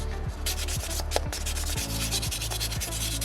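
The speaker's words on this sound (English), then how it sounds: "Anywhere where your fingers don't fit, I just fold my sandpaper to get up in there." Folded sandpaper rubbing over a small soapstone Moai carving, a steady close scraping with repeated back-and-forth strokes, loud and alone.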